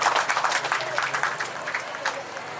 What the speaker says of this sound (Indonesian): Itu tepuk tangan lagi untuk warga Suli Ayah sepakat